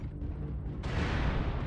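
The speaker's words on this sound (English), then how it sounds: "Warning, incoming missile." A missile strikes a mech in a frozen-city skirmish, a sudden loud blast that bursts into a broad, roaring rumble and keeps rolling on.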